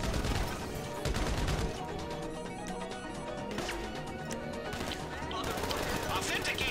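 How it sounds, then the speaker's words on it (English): Machine pistol fire in GTA 5 Online crackles in dense bursts over a busy mix of game effects, rapid sharp shots repeating throughout at moderate level with little pause. "Machine pistol."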